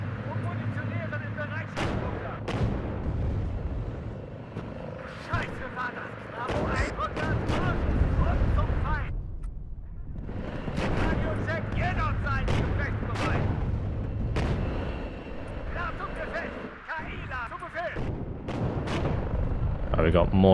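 Artillery fire in the WARNO real-time strategy game, heavy booming volleys and rumbling impacts repeating across the battlefield, with someone talking over much of it.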